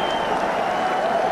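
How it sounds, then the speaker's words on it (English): The racecourse crowd at the 1989 Cheltenham Gold Cup roars and applauds for Desert Orchid's win, a dense, loud and continuous wall of cheering. "You've never heard cheers like this at Cheltenham. The crowd going absolutely wild."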